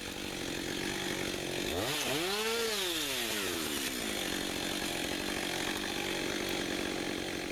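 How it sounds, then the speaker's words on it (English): Chainsaw cutting a short block off a spruce blowdown log outdoors, steady close engine drone with a pitch that dips and rises as the bar bites through the wood, then levels off at a constant whine. "Cutting off a short block brought me to sound wood."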